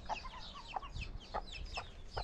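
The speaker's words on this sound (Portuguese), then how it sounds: "É o galinho pequeno." A small rooster clucks in a series of short, soft, chirpy notes at close range over a quiet background, several calls spread through a brief moment.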